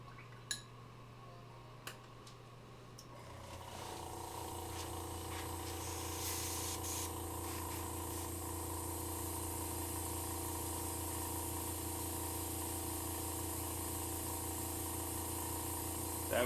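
Airbrush hissing steadily as it sprays thinned paint onto a miniature figure, starting after a few seconds and continuing as a constant close, loud airflow with a compressor hum underneath.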